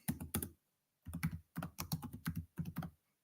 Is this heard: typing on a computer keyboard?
yes